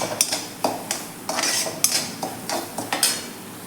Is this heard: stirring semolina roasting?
yes